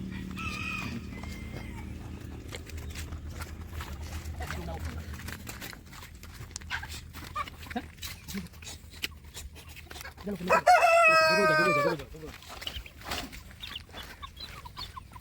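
Chickens cluck while being fed vegetable scraps, over a person talking and rustling noises, then a loud rooster crow rings out near the end.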